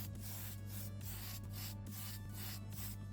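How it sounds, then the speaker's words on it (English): Short, regular bursts of hissing spray, Tamiya Fine Primer in grey misted lightly over a restored 1969 Matchbox Lamborghini Miura die-cast model car, repeating about twice a second, close and steady. "I give them a light spray of the Tamiya Fine Primer"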